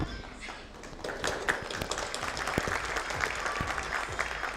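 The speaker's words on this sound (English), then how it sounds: "Let's have a round of applause for both of them once again." Audience applause at a hospital launch event, a moderately quiet but dense patter of many hands with a few distinct sharper claps, continuing evenly throughout.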